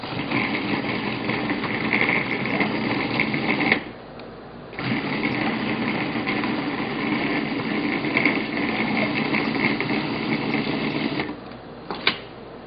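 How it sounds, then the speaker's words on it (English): A food processor chopping butter runs with a loud, steady motor whir, stops briefly partway through, then runs on steadily before a short break and a sharp knock near the end. "I'm going to turn the food processor on until the butter's chopped up into smaller pieces"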